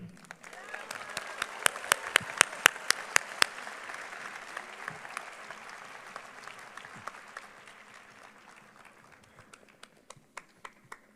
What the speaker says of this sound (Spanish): recibamos, por favor, con un fuerte aplauso y muy cariñoso al ingeniero Carlos Slim Melú